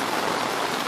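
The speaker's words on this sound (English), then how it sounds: "It's really raining." Heavy rain pours steadily around an umbrella, with floodwater nearly reaching a kitchen; a dense, even hiss of falling water fills the brief moment with no voices.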